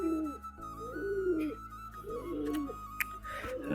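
Pet pigeons in a home coop cooing close by, several rounded, repeated coos in a slow rhythm over a quiet background, with a single sharp click near the end.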